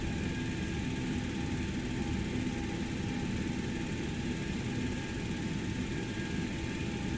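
Number 2 engine of a Boeing 727 spools up during a start in a flight simulator game: a steady, dense jet roar with a thin whining tone on top, unbroken and without voices.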